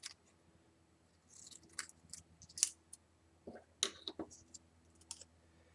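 Scissors snipping through a paper sentence strip, a sparse series of small, close, faint crisp clicks and cuts in an otherwise quiet room.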